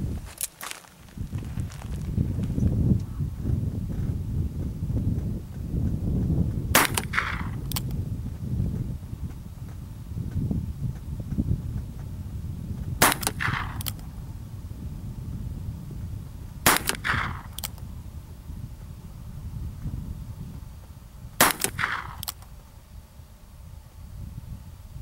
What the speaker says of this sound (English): I have a six-shot group I'm going to shoot.